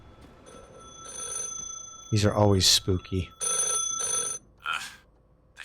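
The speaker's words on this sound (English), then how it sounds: "Oh, wait a minute. Phone call." A telephone rings in The Last Caretaker video game with repeated electronic bursts in a steady on-off rhythm. Someone talks over part of the ringing.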